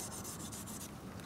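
A Gerber Principle knife with a Scandi grind is stroked against a sharpening stone, giving a steady, close scraping rub in repeated even passes with no talking.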